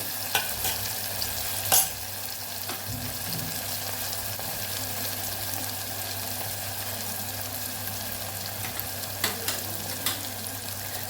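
Tomatoes sauté in a pan with a steady, even sizzle and the occasional clink of a spoon. No voices.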